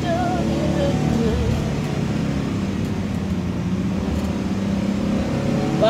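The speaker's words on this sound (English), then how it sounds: "Wow, this engine is so loud." A loud car engine roars steadily at high revs, a dense continuous rumble with little change in pitch across the whole stretch.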